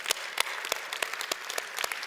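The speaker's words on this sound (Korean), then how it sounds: "박수를 한번 보내주시기 바랍니다" A church congregation applauds at a first-anniversary service, a thin, spaced-out clapping with distinct sharp individual claps standing out over a softer patter, close and clear, with no voices.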